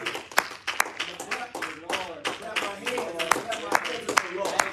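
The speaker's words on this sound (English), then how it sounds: "let's give the Lord a hand clap" A church congregation claps in praise, steady overlapping hand claps building into applause, with a voice speaking over them throughout.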